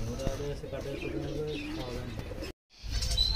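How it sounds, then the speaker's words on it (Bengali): Racer pigeons coo and chirp in a loft, soft rolling calls repeating over steady background noise, with a brief dropout near the end. "এগুলো কবুতরের নাম কিন্তু রেসার, মনে হয় খুব সম্ভব রেসারই হবে"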